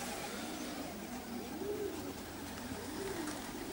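Pigeons coo steadily as a large flock settles onto the loft for adult birds, low repeated calls over constant outdoor background noise, no talking.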